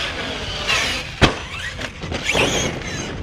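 A Traxxas Sledge RC monster truck running on dirt, its electric motor giving a loud whine that rises and falls. Tyres scrabble over the ground, with one sharp knock partway through.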